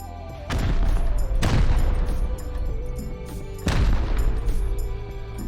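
Rockets slam into a player-built base in the video game Rust, heavy booming explosions that land in separate blasts, each followed by a long rumbling, crackling tail, loud and close.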